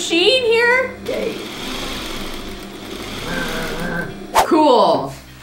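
A loud domestic sewing machine runs steadily while stitching linen for a joey pouch. Its mechanical whir carries for several seconds, and people talk over it at the start and again at the end.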